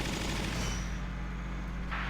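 Gunfire from the Valkyria Chronicles PC game opens the clip as a burst of rapid shots, then a ringing decay that fades out, with a brief faint sound near the end.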